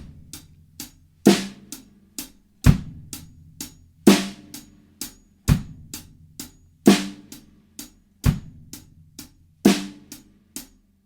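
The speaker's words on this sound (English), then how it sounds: "Groove number 2 is the 6/8 feel" A drum kit plays a slow 6/8 blues groove, with steady light cymbal ticks and heavy accented drum hits landing about every one and a half seconds. The kit is close and alone, with no talk.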